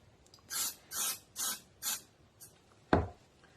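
Spray glue is sprayed onto the flaps of a cardboard tissue box in four short, close hissing bursts, followed by a single sharp tap.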